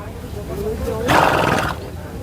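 A nine-year-old mare neighs at a horse fair, one loud, close whinny rising over the crowd, with a voice talking just before it.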